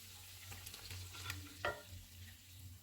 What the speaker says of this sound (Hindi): इसमें फेंटा हुआ दही डालेंगे,